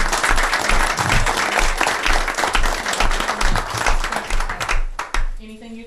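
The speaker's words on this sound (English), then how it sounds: "We have a round of applause for these ones." A room full of people applauds at a town council meeting, brisk and dense clapping that runs for about five seconds before cutting off into a brief voice.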